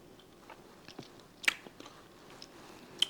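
Biting and chewing into protein ice cream spun in a Ninja Creami, a few soft, close crunchy bites and mouth sounds spaced over a quiet background.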